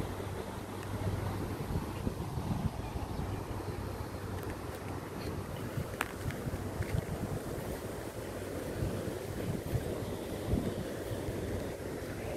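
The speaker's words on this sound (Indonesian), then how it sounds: "Ini di pinggir pantai." Red Sea beach at Jeddah, with steady surf washing in under gusty wind noise, a continuous moderate wash of waves and no clear voices.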